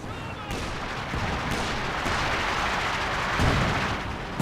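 Artillery fire in Company of Heroes 2 during a British and US versus Wehrmacht and OKW battle: several heavy booming shots spaced about a second apart, rolling over a dense, noisy battlefield din.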